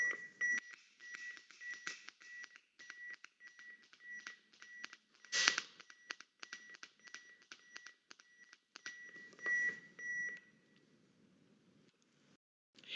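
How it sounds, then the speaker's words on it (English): A defibrillator emits a steady series of short electronic beeps at a regular pace, marking the CPR compression rhythm, with some rustling and handling noises mixed in. "You probably noticed the beeping after it said begin CPR. That is the correct rhythm for CPR strokes."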